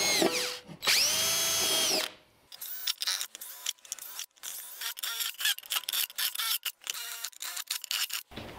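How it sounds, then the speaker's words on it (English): Power drill boring into a thin metal soup can for a rocket stove, one sustained whine followed by many short, bursty spurts of drilling and chattering, close and fairly loud. "I chucked this bit way down with just about a quarter inch reveal, and that'll help it flex less and be easier to drill."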